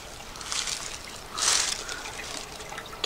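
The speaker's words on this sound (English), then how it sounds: "Can hear the water in there." Water trickling inside a small spring housed in an outhouse-like structure, a faint, thin splashing and dribbling with a couple of brief louder swells, fairly close and otherwise quiet.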